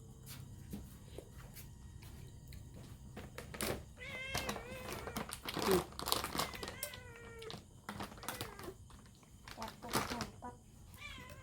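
A cat meows repeatedly while being fed, its rising and falling calls close and clear, mixed with quiet clicks and rustling as food is set down, and soft human voices in the background.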